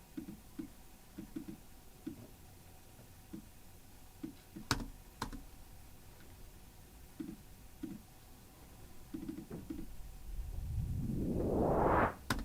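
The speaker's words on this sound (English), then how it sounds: "this instantly creates that whoosh effect" White noise swept upward by a rising filter automation over one bar, swelling into a loud whoosh at the end, preceded by scattered soft clicks of a mouse and keyboard.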